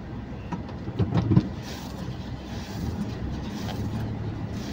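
Vehicle rolling slowly through a narrow lane, a low rumbling engine with a brief bump of louder noise early on, then a steady muffled hum, moderately close and with no talk.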